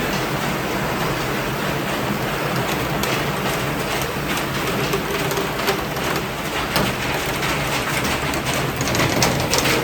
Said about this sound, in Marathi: इतका जोरात पाऊस आलेला आहे